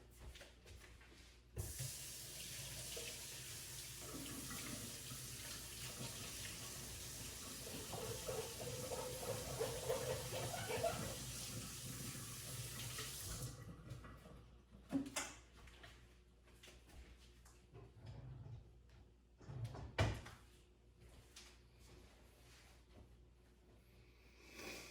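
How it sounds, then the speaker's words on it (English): A kitchen tap runs strongly for about twelve seconds as hands are rinsed after preserving lemons, then shuts off, leaving quiet clatter and a few soft knocks. "And let me rinse my hands."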